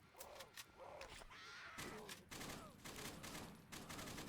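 Zombie-shooting gunfire in the Roblox game Those Who Remain: sharp repeated shots in quick clusters amid creaking and mechanical game sounds, fairly faint overall.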